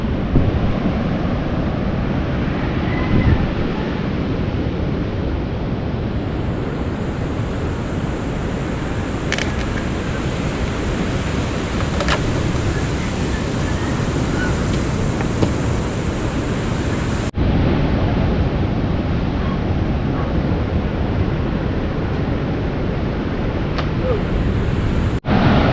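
Ocean waves at sea beside a small boat, a steady, loud wash of surf mixed with heavy wind buffeting the microphone, continuous throughout with a couple of sharp clicks near the end.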